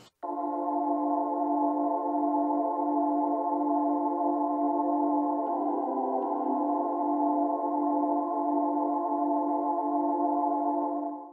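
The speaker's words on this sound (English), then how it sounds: "And this organ sounds like this. This is a B3 version 2 organ." A sampled B3 version 2 organ plays from a Maschine Plus, sustaining one steady chord for about eleven seconds, then shifting to a fuller voicing midway, smooth and continuous with no talking.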